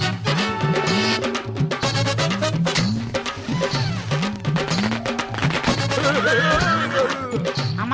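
A cartoon horse whinnies in repeated rising calls over rhythmic galloping clip-clop and busy background music, loud and close, with no speech.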